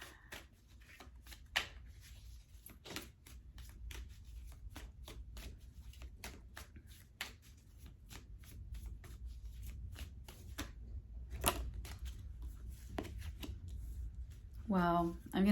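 A deck of tarot cards is shuffled by hand, a steady run of soft riffling flicks and taps close by over a low background hum, with a voice briefly speaking at the very end.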